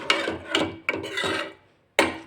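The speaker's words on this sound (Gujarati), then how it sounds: "હવે આપણે બધું જ મિક્સ કરી દઈશું।" A spoon scrapes through ragda ingredients inside a pressure cooker, making close, rasping strokes in a quick rhythm of about four passes, a brief pause, then one more stroke.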